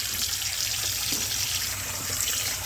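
Cold tap water runs steadily into a sink while fresh butter is rinsed, a continuous close hiss and splash with no talking.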